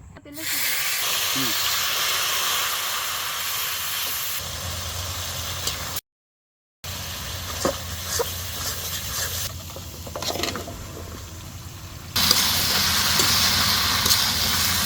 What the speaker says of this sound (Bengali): আমার তরকারিটা ফুটে গেছে